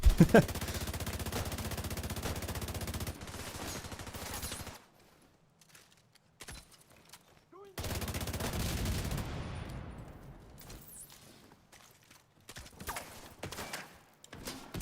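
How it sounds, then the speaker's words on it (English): Bursts of gunfire from The Division 2 shooter game, long loud volleys that stop for a few seconds before another heavy barrage and a scatter of lighter shots. "I'm whiffing so many shots"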